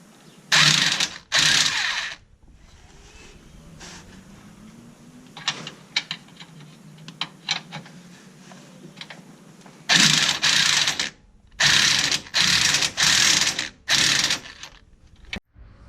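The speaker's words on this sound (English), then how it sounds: "we're going to change to our 19 millimeter socket. We're going to tighten it as well" A ratchet with a 19 mm socket tightens a control arm bushing bolt on an Infiniti G35. Loud, close bursts of rapid clicking arrive in short strokes, separated by quieter pauses with faint handling noise.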